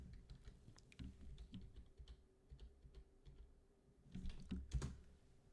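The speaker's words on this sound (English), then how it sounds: "I'll type in the chat my username" A username is typed into a chat on a computer keyboard: quiet, irregular clicking keystrokes with a brief, busier flurry of taps near the end.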